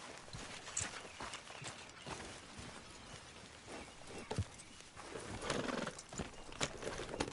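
Horse hooves clip-clop steadily at a walking pace in Red Dead Redemption 2, soft and somewhat distant. An occasional whinny and faint outdoor ambience sit under the hoofbeats.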